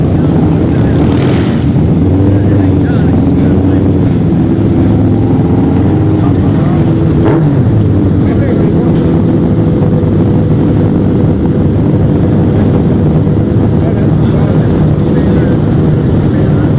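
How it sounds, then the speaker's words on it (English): Drag racing motorcycles roar down the track at Orlando Speed World's Friday Night Frenzy, a loud sustained engine blare with wind buffeting, continuous and close for the whole stretch. "All right, we got the bikes coming through."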